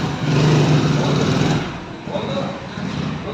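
Model 605 tractor engine, a 2011 model with power steering, running at a tractor market with a loud steady rumble that eases somewhat halfway through while someone talks over it.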